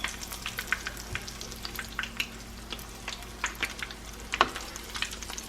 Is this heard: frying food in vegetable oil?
yes